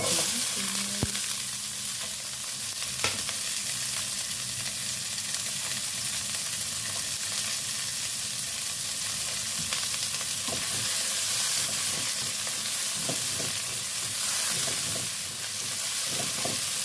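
Garlic and onion frying in a pan, a steady close sizzle and hiss with occasional stirring clicks, continuous and fairly loud, with no talking.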